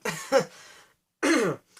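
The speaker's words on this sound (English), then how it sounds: "I've got a bad cough" A person coughs and clears their throat close up, two rough bursts followed by a pause and another harsh throat-clearing rasp.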